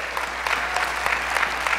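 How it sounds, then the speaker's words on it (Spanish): Applause from a church congregation during a Spanish-language worship service, a steady dense patter of clapping that holds for the whole short stretch at moderate loudness. "Denle un aplauso, Señor."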